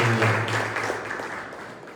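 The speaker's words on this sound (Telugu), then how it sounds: "ताले बजाएंगे सारे मिलकर" A congregation at a pastors' meeting in Maharashtra clapping together, a dense burst of applause that fades over two seconds, with a voice briefly at the start.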